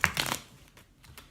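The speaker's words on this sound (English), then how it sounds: "So I'm gonna shuffle the cards." Tarot cards are shuffled in quick, soft riffling bursts, a few crisp papery flutters close up, then quieter scattered taps as the deck settles.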